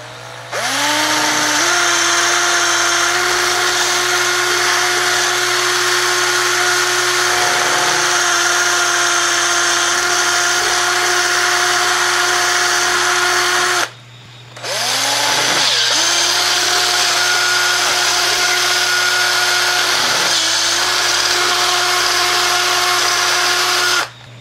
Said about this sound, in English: let's go ahead and get this thing drilled out